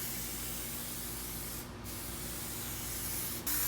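A spray can of paint hisses steadily and close up as light coats go onto car window trim, one long continuous spray with a brief pause near the end.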